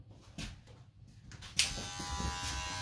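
Electric hair clippers fitted with a 1/8 inch attachment trim hair with a comb, the buzzing motor coming in sharply partway through and holding a steady close hum after quieter handling noises.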